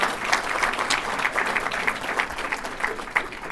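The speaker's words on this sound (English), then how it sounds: "I want you to give a rounding applause to the people in this room" An audience in a conference room at a reentry conference claps steadily, a dense burst of many hands at moderate distance with no voices over it.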